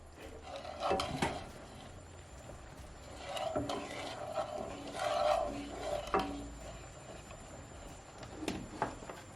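A pineapple ham glaze stirred in a pot, the spoon rasping and scraping against the metal in several soft, intermittent strokes in a quiet kitchen.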